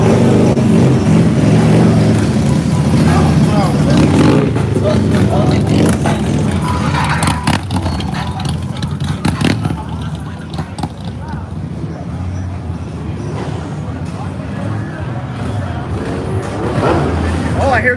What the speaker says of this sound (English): Oh, I hear some sport bikes.